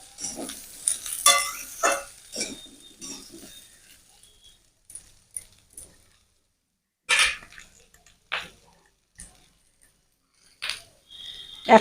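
Potatoes, pointed gourd and rice are stirred with spices in a pan: scattered scraping and clinking strokes with a soft sizzle, coming in short bursts separated by quiet gaps.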